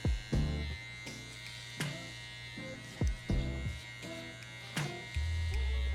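Electric hair clipper buzzing steadily while cutting a drop fade, with short strokes and pauses as it moves through the hair, heard up close.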